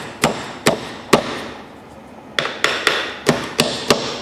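Sharp wooden taps as dowels are driven into a Maltese case, three spaced knocks, a pause, then six more in an uneven rhythm, close and crisp.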